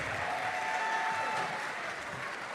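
Steady applause from an audience at a live outdoor folk-music event in Ollolai, Sardinia, clapping for performers; a dense, even wash of hands that holds at a moderate level throughout.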